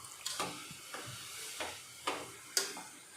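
Soft, uneven sizzling of hot milk poured into a pan for rava laddu, with several brief crackling bursts spaced through a quiet hiss.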